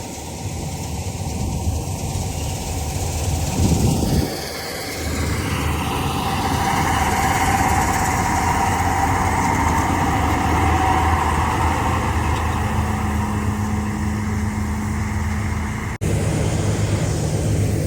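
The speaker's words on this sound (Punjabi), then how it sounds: "ਚੱਲਦੀ ਆ ਮਸ਼ੀਨ" A combine harvester with an air-conditioned cab runs steadily during harvest work in Punjab, giving a loud continuous engine drone with a brief dip near four seconds and a change near sixteen seconds.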